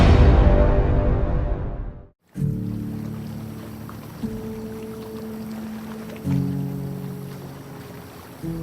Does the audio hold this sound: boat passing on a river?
yes